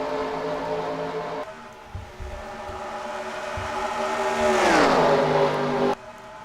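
Race cars in a stock car racing video game at Charlotte drone steadily with layered engine tones, and one car roars past close by with a sharp falling pitch before the engine noise cuts out.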